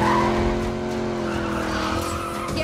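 Tires skid and squeal during a car chase in a Need for Speed racing game, with a loud, continuous engine drone and sustained screeching, no voices.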